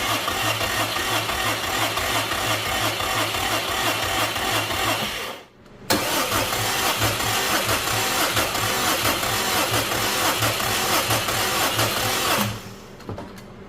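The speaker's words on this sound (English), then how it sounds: "let's go crank the engine" A Subaru WRX 2.5L engine with a knock problem is cranked on the starter during a compression test. It gives a loud, steady, rhythmic churning that runs for several seconds, pauses briefly, then cranks again for a long stretch before cutting off.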